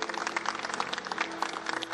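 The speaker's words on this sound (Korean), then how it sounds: "우리 큰 박수로 주님을 찬양하며 송축하겠습니다." A church congregation at a Sunday worship service gives a continuous round of applause, a dense patter of many hands clapping, moderately distant and fairly soft.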